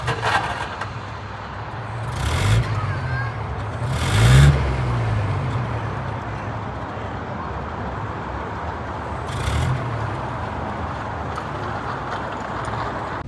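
A 1930s pre-war Rolls Royce 20/25 engine running steadily at idle, a low even rumble heard from behind the car, with a few brief swells and a soft thump near the middle.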